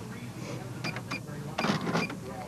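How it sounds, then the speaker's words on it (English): Cash register at a store selling Husky apparel and souvenirs, with short clattering beeps and drawer clunks in bursts, mixed with background store chatter. "Cash registers at stores selling Husky apparel and souvenirs also have experienced an increased workload."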